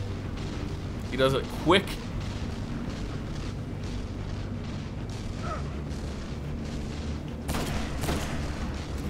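Weapon fire and blasts during a fight against the boss Nexus in the video game Destiny, with booming shots and explosions rumbling under someone talking over the action.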